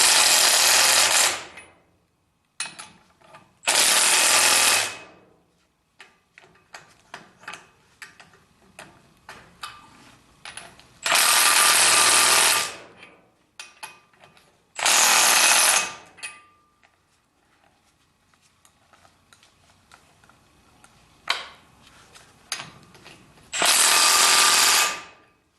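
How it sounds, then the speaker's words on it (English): An impact wrench snugs the wheel nuts on a 1976 Corvette restomod in five loud rattling bursts of a few seconds each, separated by quieter clinks and shop handling noise. "So I'm going to hit them with the impact wrench to at least make it snug."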